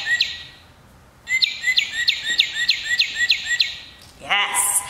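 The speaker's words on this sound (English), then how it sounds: "And then a northern cardinal." Repeated northern cardinal calls, a run of about eight clear, evenly spaced whistled notes close by, after a quiet start and before a brief, different bird call at the end.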